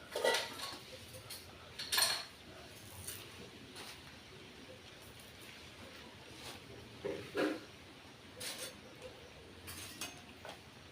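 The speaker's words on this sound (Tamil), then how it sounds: "இப்போ வாழைக்காய் வந்து கட் பண்ண போகிறேன்" Faint, irregular taps of a knife slicing plantain into rounds on a board, with occasional light clinks of utensils in a quiet kitchen.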